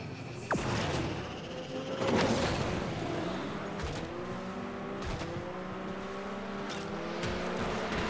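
Race car engine whining and shifting pitch while driving in the mobile racing game Asphalt 9, with a sharp skid or impact near the start. The game sound stays loud and steady for the whole stretch.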